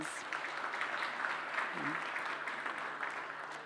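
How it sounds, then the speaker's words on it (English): Guests at a university awards ceremony give a warm round of applause, a soft, even wash of clapping that sounds somewhat distant, with a voice briefly heard partway through. "I think give yourselves a warm round of applause"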